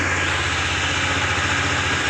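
A KTM Duke 390 BS6 motorcycle engine idles with unstable, fluctuating RPM, a low steady thrum heard close up on its own in a brief stretch.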